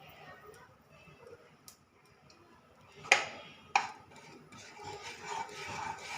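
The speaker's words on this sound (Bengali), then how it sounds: "হলুদ আর লঙ্কা গুঁড়োটা ভালো করে মিশিয়ে নিচ্ছি" A spoon stirring turmeric and chili powder into hot oil in a pan gives soft scrapes and light clicks, with two sharper metallic taps, under a quiet voice.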